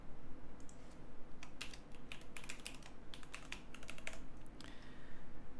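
Rapid key presses on a computer keyboard as a long password is typed during an Ubuntu install, a steady run of light clicks over a low hum, fairly close and alone without talk.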